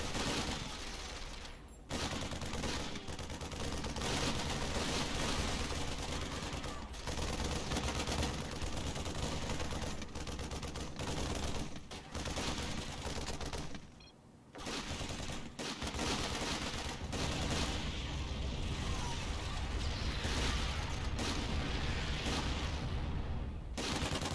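Heavy weapon fire in the zombie shooter game The Rising Dead: sustained bursts of gunfire, dense and continuous, with brief gaps, heard alone without talk.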